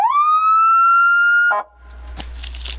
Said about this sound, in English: But it's a police siren.